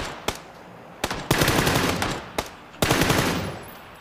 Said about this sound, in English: Every shot that I hear is a little bit off to the left or right.